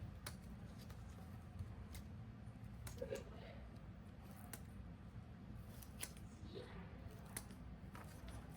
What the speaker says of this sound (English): So I'm going to cut here.